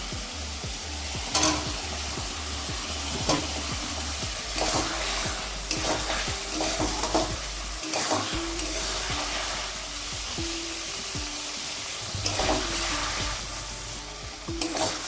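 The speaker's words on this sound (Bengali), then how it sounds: "মশলাটা কষানো হয়ে গেছে তেল ছেড়ে দিয়েছে এবার দিয়ে দেব ভেজে রাখা আলু" Fried potatoes tossed into oily masala for a crab curry, stirred and sautéed in a pan with steady loud sizzling, scraping spatula strokes and clatter throughout.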